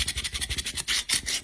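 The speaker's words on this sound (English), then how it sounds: "the reason I'm sanding the top of the can is because these drink cans have a plastic coating over top of them" Quick, rhythmic rasping strokes of sandpaper rubbing the plastic coating off the top of a Red Bull aluminium drink can, close and brisk, with a few longer scrapes at the end.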